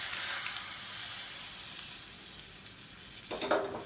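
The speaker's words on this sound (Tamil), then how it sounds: "அமர்த்திட்டு தேங்காய் எண்ணெயில் கடுகு, உளுந்து, சீரகம், வரமிளகா, கருவேப்பிலை, பெருங்காயம் போட்டிருக்கேன். இது தாளித்து அப்படியே இதில் போட்டுடலாம்" Mustard seeds, urad dal, cumin, dried red chilli, curry leaves and asafoetida sizzle in hot coconut oil, a steady close hiss that fades slightly before a louder burst of crackling near the end, with no voices.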